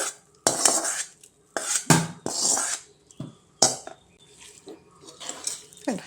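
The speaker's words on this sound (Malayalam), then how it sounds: "നമ്മുടെ ഇറച്ചിയിലോട്ട് ഇതെല്ലാം കൂടെ ചേർത്ത് കൊടുത്തിട്ട് നല്ലപോലെ ഇളക്കണേ" A spoon stirs beef curry with spices in a metal pot, giving loud, close clanks and scrapes in irregular bursts separated by short quiet gaps.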